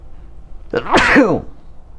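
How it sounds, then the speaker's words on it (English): A single loud sneeze close by, with a short sharp intake before the burst, then quiet. "I sneezed, by the way."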